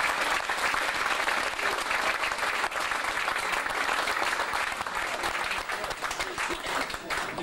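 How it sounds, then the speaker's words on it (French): Sustained audience applause for violinist Jean-François Brault at a violin evening in Hazebrouck, a dense, even roar of many hands clapping steadily for over seven seconds without fading. "applaudissements, Jean-François Brault."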